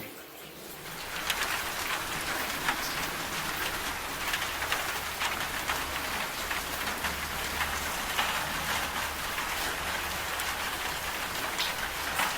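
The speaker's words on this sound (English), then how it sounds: "It is raining outside." Steady rain falling outside, a dense even patter of drops that fades in and continues without pause, with no one talking.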